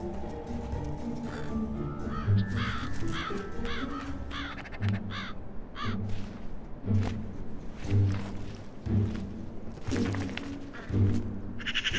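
Crows caw repeatedly in harsh, rhythmic calls while squabbling over food beside buzzards and magpies, several birds overlapping at moderate distance over a steady outdoor background.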